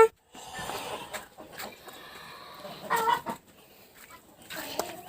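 Chickens cluck in short, scattered bursts close by in a farmyard, with a louder flurry of calls midway and another near the end, no talk.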